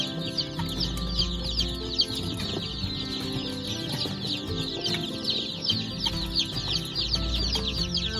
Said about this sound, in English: Here's my 100 chicks. They are making a lot of noise.